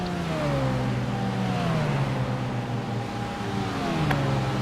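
An iRacing sim race car accelerates out of the pit lane at Charlotte Speedway with a steady, loud engine drone whose pitch slowly shifts as it gains speed, heard alone without commentary.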